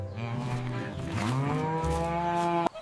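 A cartoon cow gives one long, loud, drawn-out moo with a rising and falling pitch, close and alone, ending in a sharp click.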